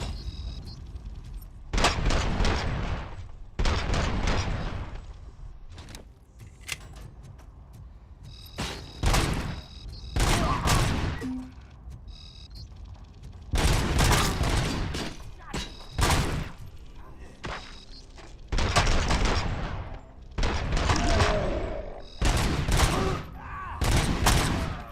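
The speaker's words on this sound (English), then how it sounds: "I am not that good at shooting, am I?" Gunfire in RoboCop: Rogue City, repeated loud bursts of rapid shots and booming blasts in clusters, separated by short quieter gaps with low background hum.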